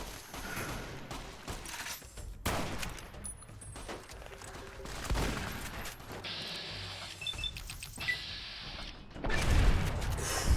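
Scattered gunshots and clanking weapon sounds from combat in the video game Fallout: New Vegas, Honest Hearts add-on, come in irregular bursts of sharp cracks over a low background with electronic game tones.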